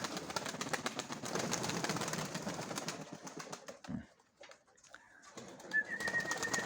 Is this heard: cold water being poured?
no